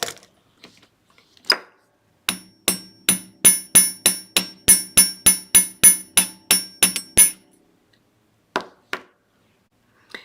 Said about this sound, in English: you can hammer that a little bit too, just to make it cute